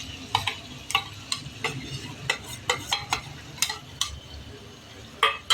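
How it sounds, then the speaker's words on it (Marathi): Marinated chicken going into a cooking pot for chicken biryani, with repeated sharp clinks and scrapes of utensils against the pot at an uneven rhythm and a faint sizzle beneath, close and fairly quiet, no talking. "आता आपण याच्यात मॅरिनेट केलेलं चिकन टाकणार आहे"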